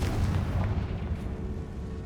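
Confringo blasting spell explosion in the Hogwarts Legacy video game: a heavy, sustained rumbling boom that fills the whole moment, loud and close with no voices.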